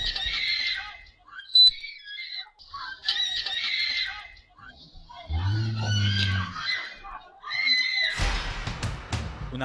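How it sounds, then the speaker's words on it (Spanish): A young woman's high, shrill screams for help ring out in repeated bursts from inside a moving taxi, with a low thud and a burst of noise near the end. "Una joven pide ayuda a gritos"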